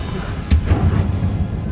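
A Confringo blasting spell bursts in Hogwarts Legacy as one sharp, booming explosion with a short rumbling tail, loud and close within a brief moment of game audio.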